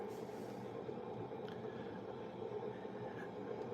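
Thomas the Tank Engine running really fast in Train Sim World 5, heard as a steady, fairly quiet rolling rumble of wheels on track that does not let up.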